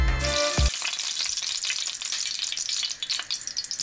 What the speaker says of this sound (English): check when the oil is hot by tipping a small bit of water in it.